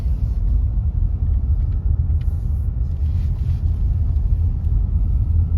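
Steady low rumble of a car driving on a winter road in Ukhta, Komi Republic, a constant engine and road drone running without pause, with no talking.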